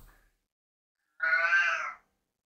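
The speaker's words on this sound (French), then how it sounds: "Il y a mon chat qui est pas content" A cat unhappy at doves it cannot catch on a terrace gives one drawn-out, whining meow, close and fairly loud, after a brief faint noise and a moment of silence.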